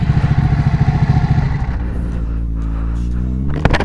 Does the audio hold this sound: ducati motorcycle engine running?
yes